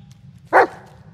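A dog barks once, a single loud, close bark in the Blair Witch video game, heard alone over a low steady background rumble.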